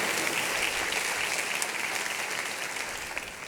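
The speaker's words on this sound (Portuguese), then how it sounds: "Você pode aplaudir ao Senhor por isso?" Church congregation applauding together, a dense, steady wash of clapping that stays loud and even throughout with no voices standing out.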